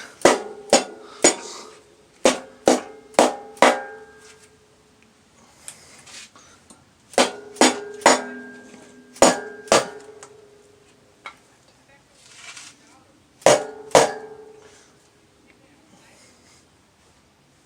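Sharp metallic taps on a Subaru WRX/STI cylinder head being seated during a head gasket replacement, struck in quick bursts of three to five close, loud blows separated by pauses.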